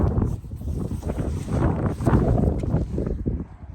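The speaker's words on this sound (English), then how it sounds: "I'm sure it's windy." Low, blustery rumble of wind buffeting the microphone, steady with uneven surges throughout, easing slightly near the end.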